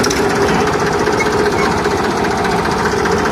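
A Massey Ferguson 245 DI tractor's diesel engine runs loudly and close by, with a steady rapid knocking chug that never lets up.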